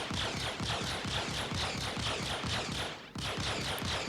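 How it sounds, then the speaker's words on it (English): Distortion guns firing in the Star Citizen space game at a Gladius fighter, a loud, steady stream of rapid pulsing shots over about four seconds with a brief break near the end, with no voices. "Fire when ready, Flickr."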